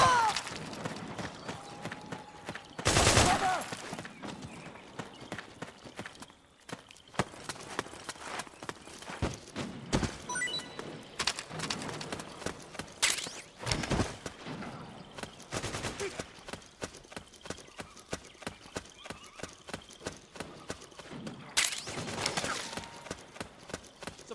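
Automatic gunfire in the Metal Gear Solid 4 video game, sharp rapid bursts and scattered loud shots spread unevenly across a long battle stretch, some close and crackling, amid other clattering combat noise and voices.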